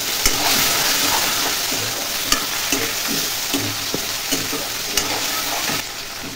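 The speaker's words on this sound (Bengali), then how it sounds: "আলুগুলো একটু ভাজতে হবে, সঙ্গে চিংড়ি মাছটাও দিয়ে দিচ্ছি" Potatoes and shrimp fry in hot oil with panch phoron and slit green chillies, a continuous loud sizzle broken by repeated scraping and clinking as a spoon stirs the pan.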